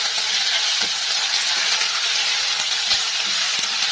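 Beef tendon pieces sautéing with spices in a hot pan for soto Betawi give a steady, close sizzling hiss, with faint scrapes and clicks as they are stirred now and then; no voices.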